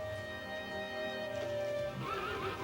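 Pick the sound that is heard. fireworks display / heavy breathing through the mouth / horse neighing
horse neighing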